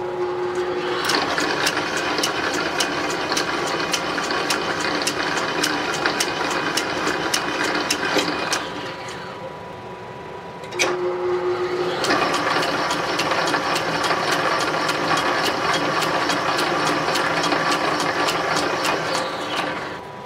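Metal lathe cutting internal threads on a chuck back plate, a fast rhythmic mechanical clatter of gears with a steady whine, pausing briefly midway before resuming, close and with no talk.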